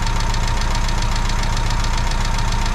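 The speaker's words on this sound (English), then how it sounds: "it's actually quite difficult to set the tappets right. I'll have another go, get them a bit quieter" A classic Mini engine, just fitted with a refitted cylinder head, idles steadily with loud, rapid ticking from noisy, badly adjusted tappets, close up and continuous with no talk.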